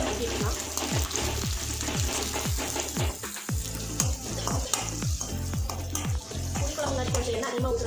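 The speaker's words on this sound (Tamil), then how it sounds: "அடுத்து வெங்காயம் தக்காளி போட்டு வதக்கிக்கலாம்." Onion and tomato sauté in oil in a pan for okra tamarind curry, with a continuous loud sizzle and regular, rhythmic stirring strokes running throughout.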